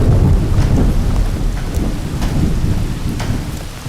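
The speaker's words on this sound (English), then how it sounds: "These thunderstorms have slowed us down." Steady rain pours during a Montana thunderstorm, with low thunder rumbling throughout and faint sharp drips and ticks over a dense, loud wash of noise.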